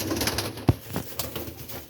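A large, purebred Mamdeen pigeon coos softly at a breeder's loft, a low murmur with one sharper thump partway through.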